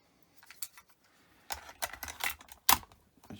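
Plastic clicks and clacks of a cassette being handled and snapped into an Aiwa HS-G36 Walkman, with a few soft fumbling taps followed by a cluster of sharper mechanical clicks and one loud latching snap, close up.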